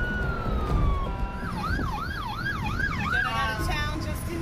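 Emergency sirens wail in the distance during the Fort McMurray wildfire, a steady tone shifting into a rapid rising-and-falling yelp, over low rumbling background noise.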